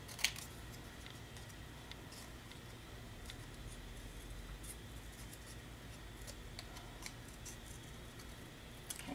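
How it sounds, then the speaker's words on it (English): Scissors cut paper pieces for a double Z fold card, snipping faintly and quietly with occasional sharper clicks against a low background hum. "I'm gonna cut right on the line of these guys"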